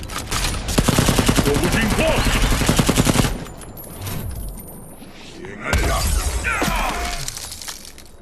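Soldiers firing automatic weapons in the Mortal Kombat X video game: a dense, loud, rapid rattle of gunshots lasting about three seconds, then a pause with rumbling effects, then another burst of sharp cracking and shattering.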